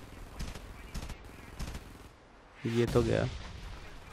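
A sentry gun firing in Frontlines: Fuel of War, with a few spaced bursts of shots and then a louder, heavier volley, while someone speaks briefly.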